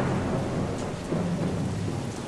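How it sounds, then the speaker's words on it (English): Heavy rain pouring steadily with a low rolling rumble of thunder underneath, a dense constant wash of sound with no voices. "And then it rained, quite a lot for Los Angeles."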